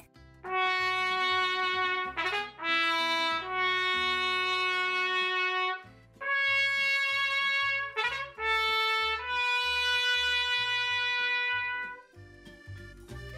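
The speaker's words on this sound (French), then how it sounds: "Et voici le son de la trompette." A trumpet plays a bright, brassy melody of sustained notes in several phrases with short breaks, backed by a rhythmic bass accompaniment. It is loud and close, with no voices.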